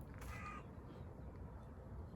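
One short crow caw sounds faintly at a distance near the start, above steady outdoor background noise.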